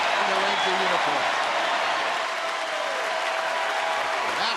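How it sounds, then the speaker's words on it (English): A ballpark crowd at Rangers Ballpark gives Matt Garza a standing ovation on his debut in a Rangers uniform: dense, steady clapping and cheering fills the whole stretch, with a commentator's voice speaking over the start. "Everybody's on their feet applauding the debut of Matt Garza in the Ranger uniform."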